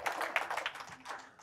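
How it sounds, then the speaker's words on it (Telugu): A small audience at a spiritual meditation talk claps softly. The claps are irregular and somewhat distant, with no speech over them. "ఈ గుడాకేశ ధ్యానానికి ఒకసారి చక్కగా హృదయపూర్వకంగా క్లాప్స్ కొడుతూ"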